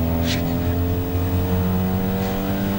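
Citroen 2CV race cars at Mallory Park heading toward the hairpin, a steady, loud, buzzing engine drone from several small cars held at high revs without a break.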